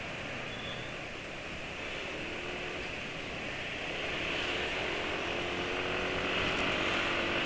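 A faint, steady engine hum runs smoothly and evenly throughout, without knocking, swelling slightly louder toward the end.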